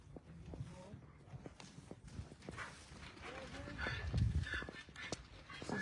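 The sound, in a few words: donkeys running, hoofbeats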